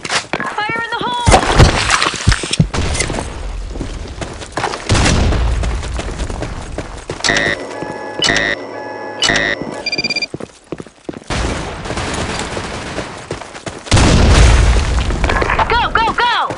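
Grenades go off in the shooter game Insurgency: Sandstorm as heavy booming blasts scattered across the stretch, mixed with gunfire and game sounds, while players shout over the action.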